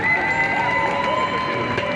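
A crowd at a street demonstration in Tours cheers and calls out in a steady, sustained wash of voices at moderate loudness, without distinct claps.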